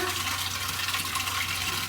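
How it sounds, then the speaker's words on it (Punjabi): Water poured into a clay pot, a steady close rush of splashing liquid with no talk. "ਹੁਣ ਆਪਾਂ ਨੇ ਨਾ ਵਿੱਚ ਪਾ ਲੈਣਾ ਥੋੜਾ ਜਿਹਾ ਪਾਣੀ"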